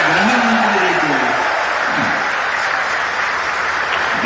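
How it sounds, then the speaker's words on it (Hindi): A large crowd at a political rally in Bhopal, Madhya Pradesh, claps loudly and steadily for the whole stretch, with an amplified voice faintly audible underneath the dense applause. "उतने ही जोरदार ताली श्रीमान अमित शाह जी के लिए भी, हमारे गृह मंत्री जी के लिए"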